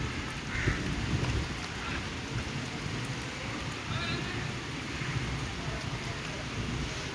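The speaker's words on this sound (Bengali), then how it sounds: "মেঘও ডাকছে, জোরে জোরে মেঘ ডাকছে।" Rain pouring onto a rooftop during a thunderstorm, a dense continuous hiss of drops with low rumbling underneath, steady and fairly close, with faint voices in the background.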